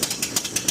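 Steel Curtain roller coaster lift chain at Kennywood, ratcheting with evenly spaced metallic clanks, about five sharp bursts in under a second, close and fairly loud from the front of the train.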